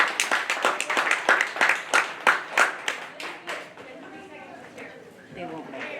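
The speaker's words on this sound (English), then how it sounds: "Let's give Everly and Gus a big round of applause for coming out tonight." Audience clapping for Everly and Gus at a county fair dairy show rings out in quick, steady claps, then thins into looser scattered applause with crowd murmur beneath.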